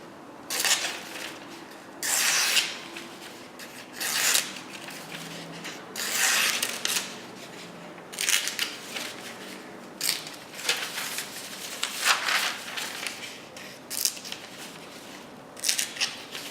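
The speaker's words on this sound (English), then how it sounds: "So you can still see it can cut phone book paper." A razor-sharp M390 or Sandvik 14C28N knife blade slices through thin phone book paper in a series of crisp rasping strokes, each a short scratchy swipe spaced roughly every two seconds, close and clear.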